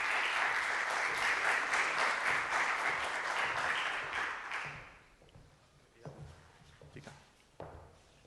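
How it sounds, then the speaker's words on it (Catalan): Audience applause for a speaker at a talk on artificial intelligence, a loud burst of clapping that stops abruptly around halfway, followed by quiet room sounds with a few scattered thumps and taps. "Un fort aplaudiment per ella."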